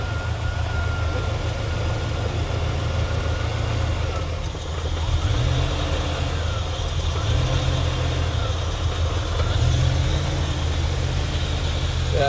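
A Camaro engine idling steadily nearby, a constant low rumble that shifts slightly in pitch now and then, with faint voices in the background, during testing of the EGR diaphragm.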